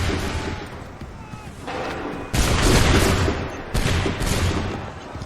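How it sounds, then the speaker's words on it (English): Musket volleys in the Assassin's Creed III video game, with dense crackling bursts of gunfire erupting twice in loud, booming rolls over a rumbling battlefield backdrop. "Make ready! Shoot!"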